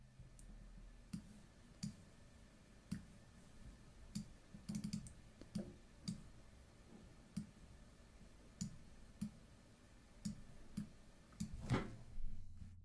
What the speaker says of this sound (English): Guys, I'm clicking on New Project.